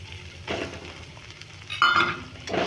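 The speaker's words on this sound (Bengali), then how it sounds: "এটাকে একটা ভালো করে নাড়িয়ে একটা পুর তৈরি করে নেব" Grated potato filling stirred in a frying pan for a stuffed papad curry, with soft scraping strokes and a light sizzle, plus a brief metallic clink of the utensil against the pan near the end.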